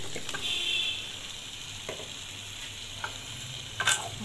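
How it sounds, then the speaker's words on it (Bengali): Chunks of taro (mukhi) stirred and frying in a spice masala in a pan, a steady close sizzle with occasional scraping clinks of the spoon, no voices. "মুখি দেওয়া হয়েছে মশলার ভিতরে, এখন মশলার সাথে মুখিকে ভালো করে মিক্স করে দিই"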